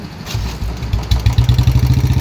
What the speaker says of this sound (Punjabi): ਲਓ ਜੀ ਮੋਟਰ ਮੋਟਰਸਾਈਕਲ ਸਟਾਰਟ ਹੋ ਗਿਆ